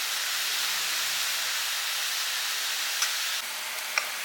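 A pressure cooker holding spinach and lentils vents steam in a steady, loud hiss that stays even throughout, with a couple of faint clicks near the end and no talking.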